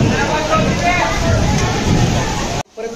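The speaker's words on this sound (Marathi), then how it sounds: "जोरदार पाऊस." Heavy monsoon rain pours down near a temple in Ujjain, a dense, steady roar close by that holds its loudness throughout, then cuts off abruptly near the end.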